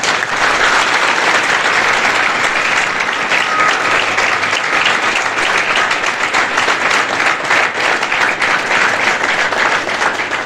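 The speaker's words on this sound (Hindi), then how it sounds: "विजय सर के लिए एकदम जोरदार तालियां होती हैं।" Crowd of students at a motivational lecture clapping hard, a thick, loud, unbroken wall of applause held steady for about ten seconds with no talk over it.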